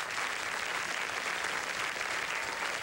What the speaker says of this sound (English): Have a round of applause for Easter.